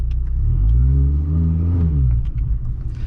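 A supercharged 370 whp Mini Cooper S engine revs loud and close while driving on a backroad, its pitch rising and then falling as the car accelerates, heard from inside the car with no talking.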